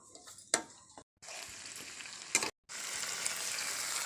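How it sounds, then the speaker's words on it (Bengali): Fresh red chili paste and ginger paste fry in a pan for a vegetarian jackfruit curry. There is a close, bright sizzle with stirring scrapes, broken by two brief silent gaps. "এখন আমি এখানে লাল কাঁচা লঙ্কা পেস্ট দিয়ে দেবো 1 চামচ, দিয়ে ভালো করে কষিয়ে নেব"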